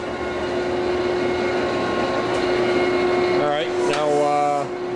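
A 1971 Carlton 4A radial arm drill with a 6-foot arm and 19-inch column hums steadily as it runs, with a brief rising whine near the end, while people talk over it.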